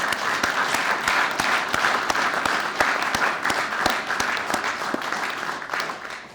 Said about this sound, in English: Join me in another round of applause to show our appreciation for their service.